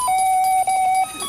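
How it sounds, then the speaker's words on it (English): Bright steady bell tone ringing for about a second, loud and close, with a faint higher ring above it before it cuts off. "Bell rings."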